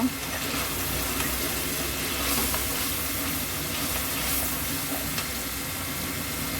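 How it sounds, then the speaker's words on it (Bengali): Spice paste sizzles steadily in a hot pan while being stir-fried for a prawn and sweet pumpkin curry, a continuous frying hiss with occasional scraping strokes, close and moderately loud. "মশলাটা আমি এখন কষিয়ে নিব।"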